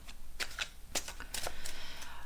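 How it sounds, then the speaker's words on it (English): A deck of tarot cards is shuffled in a quiet room, giving a few soft, papery riffles and flicks over about two seconds, close and fairly faint. "what else can I tell you while I shuffle the cards?"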